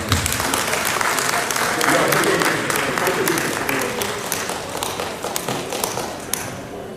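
A church congregation claps steadily for about seven seconds at a Catholic service, with dense applause throughout and scattered voices mixed in.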